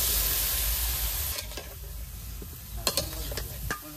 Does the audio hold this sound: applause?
no